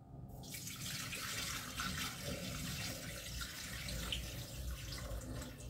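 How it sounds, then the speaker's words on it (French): Water pours steadily from a bottle into a cooking pot with fried onions and herbs while Cantonese fried rice is being made, a continuous faint splashing gush with no talking. "on va rajouter 800 g d'eau"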